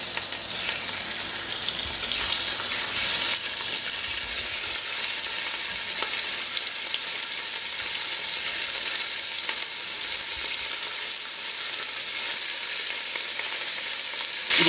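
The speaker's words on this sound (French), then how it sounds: "nous allons mettre les morceaux de viande par petites quantités au fond du récipient" Small batches of beef pieces browning over high heat in very hot oil, giving a steady, loud, dense sizzle and crackle throughout, with no talking.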